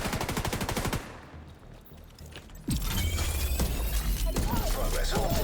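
Automatic gunfire in a video game: a long rapid-fire burst, a short lull of clanking and mechanical noise, then another sustained loud burst of shots.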